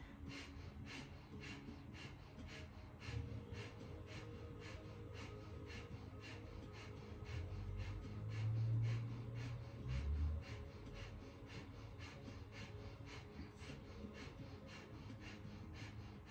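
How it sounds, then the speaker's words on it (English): Rapid, rhythmic breath-of-fire yoga breathing, short forceful pants through the nose repeated steadily and evenly for the whole stretch, close and fairly quiet with no talking. "Panting like a dog through the nose."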